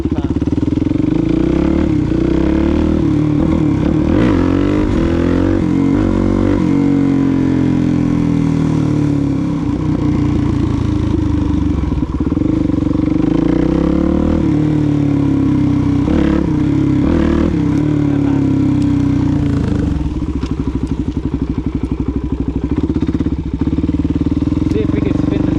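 A Suzuki DRZ400 dirt bike engine revs hard in the rain, a loud, continuous, rough motor roar that rises and falls as the rear tire spins, with voices faintly under it.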